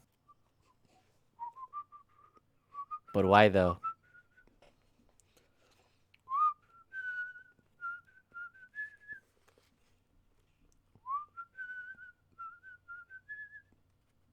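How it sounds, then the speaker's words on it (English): A person whistles a wandering tune in short rising phrases, close and clear, with a brief spoken question and a sharp noise interrupting early on. "Okay, who's whistling?"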